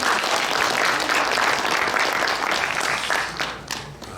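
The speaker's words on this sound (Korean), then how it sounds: "따뜻한 박수 부탁드리겠습니다." Warm applause from a lecture audience at a book launch event in a press center hall, steady dense clapping filling the room, then thinning and fading toward the end.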